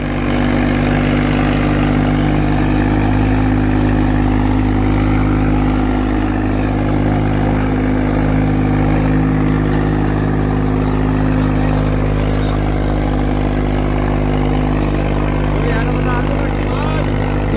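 New Swaraj tractor engine working in an open field, a loud steady low-pitched drone with constant harmonic hum that runs unbroken the whole time under occasional speech.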